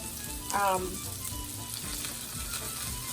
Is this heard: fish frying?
yes